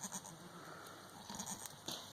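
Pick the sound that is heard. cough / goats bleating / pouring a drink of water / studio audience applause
goats bleating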